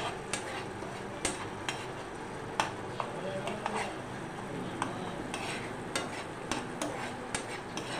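Spice masala for paneer do pyaza sautéed on a low flame, a soft steady sizzle punctuated by regular sharp scrapes and taps of a spoon stirring against the pan, fairly quiet and close.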